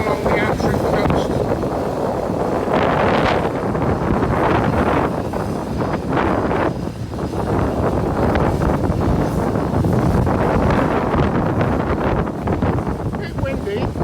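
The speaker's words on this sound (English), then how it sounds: "A bit windy." Strong wind buffets the microphone while riding a YB100cc motorcycle along the Antrim coast by the sea, a steady loud roar that fills the whole clip with gusty rumble.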